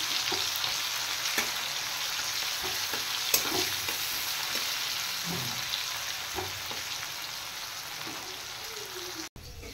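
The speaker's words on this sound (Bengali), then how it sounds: "এবার পেঁয়াজটা একটু ফ্রাই করে দেবো" Chopped onion frying in a pan, a steady soft sizzle up close with scattered stirring scrapes and light clinks, plus a brief sharp cutoff near the end; nobody speaks.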